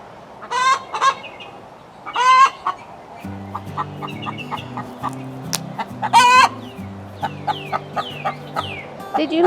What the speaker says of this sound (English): Did you lay me an egg, Houdini?